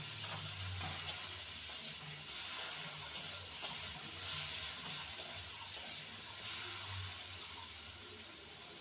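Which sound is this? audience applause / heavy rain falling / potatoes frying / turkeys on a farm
potatoes frying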